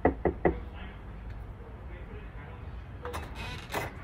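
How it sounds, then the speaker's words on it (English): Three sharp knocks rap on a door at the start, followed by quieter room sounds and a few light taps or handling noises near the end. "Come knock on the door with me."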